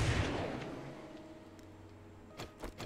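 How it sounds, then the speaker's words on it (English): Gunfire in the survival game 7 Days to Die: a loud low-frequency blast or rumble at the start fades into a quiet background, then two or three short sharp cracks ring out near the end, with no talking. "Oh my god, I heard the gunshot."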